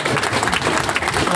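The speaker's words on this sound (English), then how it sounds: "Let's give an enormous round of applause for all of these entrepreneurs." A brief burst of thick, steady applause from an audience at a startup pitch competition in Austin, close and loud throughout.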